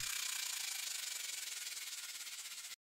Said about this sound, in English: And then we've got like a white noise downlifter.